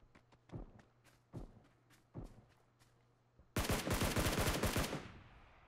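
Gunfire in the mobile battle royale PUBG New State: a few spaced single shots ring out with faint footsteps between, then a loud rapid burst of automatic fire rattles for over a second before trailing off.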